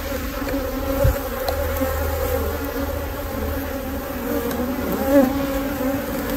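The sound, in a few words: honey bees buzzing while splitting a beehive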